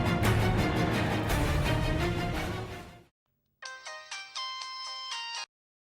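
A phone rings with an incoming call, a bright repeating melodic ringtone that sounds clearly and alone for a couple of seconds after a loud music passage cuts off.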